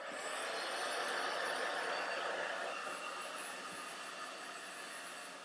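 A handheld hair dryer runs on its low setting, giving a steady, even airy whoosh that eases slightly toward the end, close by and alone.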